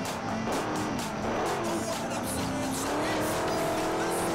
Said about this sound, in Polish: ten samochód ma naprawdę dobre przyspieszenie, ten Raptor